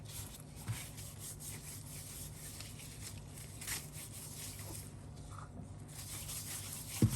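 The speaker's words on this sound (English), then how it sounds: "See, I'm rubbing the turkey now." Hands rub seasoning over a raw turkey with soft, close, continuous rubbing and scraping sounds, quiet against low room hum.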